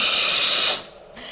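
An espresso machine's steam wand hisses hard at close range, then cuts off abruptly partway through, leaving a quiet tail with a faint click.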